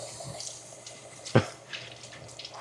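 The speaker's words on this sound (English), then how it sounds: "Wash my hands up here now." Running tap water splashes over hands at a sink in a home kitchen, a steady moderate wash with one sharper splash midway.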